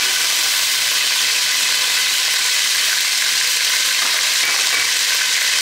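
Garlic ginger paste and bay leaves fry in hot oil for Khatri biryani, giving a loud, continuous, close-up sizzle with crackling spatter and a faint scrape of stirring, with no talk over it.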